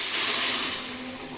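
Lentils tipped into hot oil seasoned with ground five-spice (panch phoron) for an egg dal, giving a steady close broadband sizzle that slowly eases off, with no talking.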